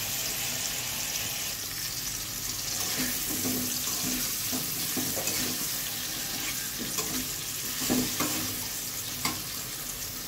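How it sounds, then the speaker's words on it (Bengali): Pointed gourd pieces coated in salt and turmeric frying in oil in a kadai, a continuous close sizzle with occasional clinks and scrapes of stirring and a faint watery hiss, no talking. "আমরা এখন পটলগুলো এর মধ্যে ভাজার জন্য দিয়ে দিচ্ছি কড়াইতে।"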